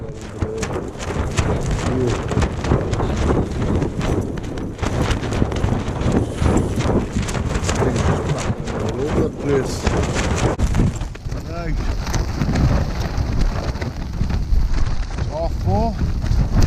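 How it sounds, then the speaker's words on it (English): Strong wind and rain batter a Hilleberg Anjan 2 tent during a wild camp on Little Sca Fell, continuous gusty roaring and flapping with pattering rain, loud and close throughout. "Been like this all night, but raining now as well."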